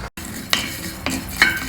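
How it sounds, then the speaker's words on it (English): Coriander and fenugreek seeds dry roasting in a pan, with soft scraping and stirring strokes recurring every half second or so against a low background hiss. "Just lightly roast them till the spices, the sesame seeds start popping."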